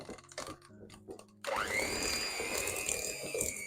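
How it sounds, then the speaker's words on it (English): An electric mixer whirs to life and runs steadily while creaming butter and sugar for a homemade Christmas cake, after a few soft clinks and kitchen handling sounds at the start. "I'm going to start by creaming my butter and sugar together."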